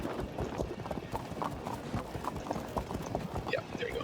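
Cavalry hooves clip-clop in steady, overlapping beats from horse archers and mounted troops in the Field of Glory 2 strategy game, with a faint whinny near the end and speech-like murmur layered throughout.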